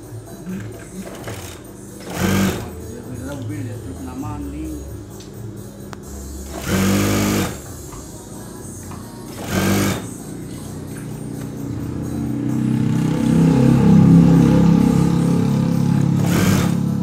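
A sewing machine stitches the side pocket of a pair of trousers in several loud, close bursts of fast whirring, separated by quieter pauses, with a longer continuous run at the end.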